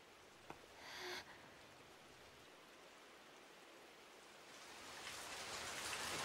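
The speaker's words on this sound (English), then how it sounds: "It's pouring really badly outside" Rain pours steadily as a broad hiss that swells louder toward the end, with a brief click and a short burst of noise early on.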